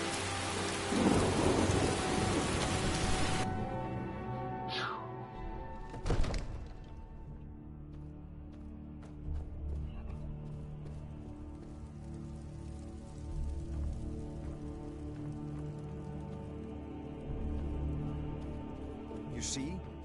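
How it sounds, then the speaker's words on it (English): Steady rain and rumbling thunder in the video game Skyrim, with a heavy burst of downpour and thunder at first, then a continuous patter of rain with occasional sharp cracks and low rolling booms. "Still raining."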